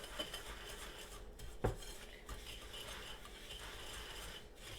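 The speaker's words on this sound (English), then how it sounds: "So we're just going to mix this real well to combine." Brown sugar batter for date bread being mixed in a bowl, a utensil scraping and clinking steadily against the sides with one sharper knock partway through, close and fairly quiet.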